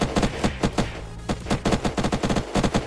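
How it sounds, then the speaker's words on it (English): Sentry guns in Unturned fire rapid, loud automatic bursts close by, rattling in quick stuttering volleys with brief pauses between them. "these sentries are absolutely wrecking them"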